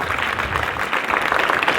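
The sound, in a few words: audience applauding a student in class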